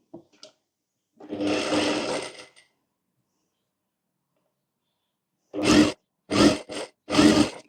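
A sewing machine stitches a sleeve onto a blouse in short bursts: one longer run of about a second and a half, then a pause, then three quick close runs in a row, loud and near with no talk.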